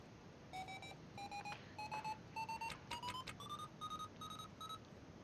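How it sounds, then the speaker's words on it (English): Proximity alarm in the space sim Ostranauts, sounding as a steady train of about nine evenly spaced electronic beeps, each tone stepping slightly higher, clear and fairly loud over a low hum. "Thank you, proximity alarm."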